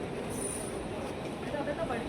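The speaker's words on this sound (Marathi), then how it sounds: "मुंबईची लाईफलाईन लोकल तरी आज कमी गर्दी आहे ना" A Mumbai local train rumbles steadily along the rails nearby, a continuous broadband roar with a faint high squeal of wheels, no voices standing out.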